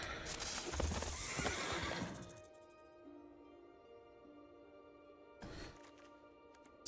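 A horse neighing for the Snake Horse card in MTG Arena, one loud, close whinny at the start, followed by quieter game tones and a short burst near the end.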